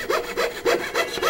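A hand fret saw cuts a wooden board in quick close strokes, a rhythmic rasping push and pull repeating about every third of a second.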